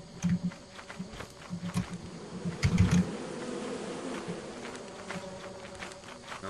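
Bees buzzing in the Lethal Company video game, a low droning hum in short intermittent bursts, moderately close, mixed with faint game noises and no talk.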